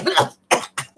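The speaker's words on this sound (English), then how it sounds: "She coughed on the Freudian slip just now." A woman coughs three times in quick, short bursts, close and fairly loud, with brief gaps between coughs.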